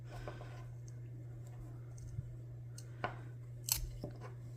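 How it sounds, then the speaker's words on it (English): A pruning knife cuts apart ranunculus corms, giving a few faint, sparse crunching snips over a steady low hum, close but quiet. "I'm gonna just take a pruning knife and cut these apart here"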